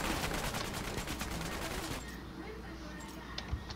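Gunfire in the Fortnite video game, a dense rattle of rapid shots that thins out halfway, followed by a few scattered bursts, heard at moderate level.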